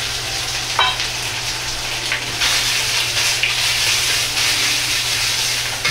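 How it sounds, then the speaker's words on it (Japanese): Pork sizzles and crackles steadily in a hot oiled pan, with occasional scraping stirs from a ladle over continuous loud frying hiss. "豚肉を入れ、炒めていきます。"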